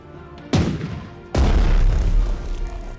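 Battleship Colorado's big guns fire on a weakened Japanese carrier in the naval strategy game Strategic Mind: The Pacific, two heavy booming salvos, the second longer with a deep rumbling tail, loud and close.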